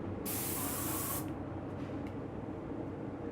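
An airless paint sprayer with a standard airless tip lets out a loud, sharp hiss for about a second, then cuts off, leaving a low steady rumbling background.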